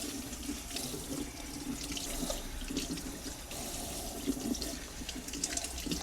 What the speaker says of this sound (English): Take some cold water and start rinsing off your fruit.